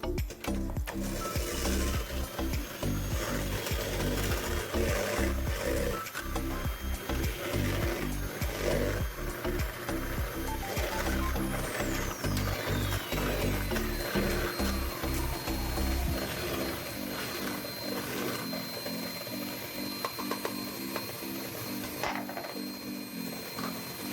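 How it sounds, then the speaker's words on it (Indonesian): An electric hand mixer beats Oreo cake batter in a home kitchen, a loud continuous motor whir with rattling texture that runs steadily, its low rumble dropping away in the last third while a thinner whine carries on. "untuk memixernya waktunya kurang lebih di sini antara 7 menitan"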